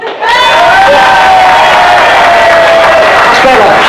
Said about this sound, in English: So when I say clap, right, I expect you to clap.